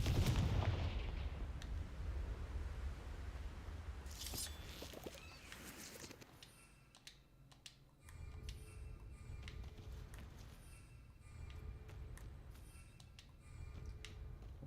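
Confringo blasting spells in the video game Hogwarts Legacy go off in sharp bursts, a booming blast early on, then scattered crackling impacts and snapping hits spread through a busy fight, mostly moderate in level.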